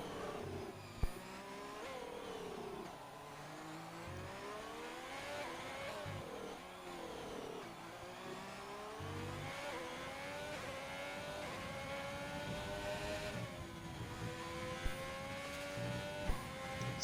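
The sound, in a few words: F1 race car engine at full throttle, from a video game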